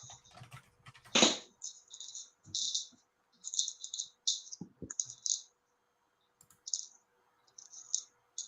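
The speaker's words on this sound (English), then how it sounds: "I hear you typing." Bursts of rapid keyboard typing, clicking in short runs separated by brief pauses, close and fairly quiet.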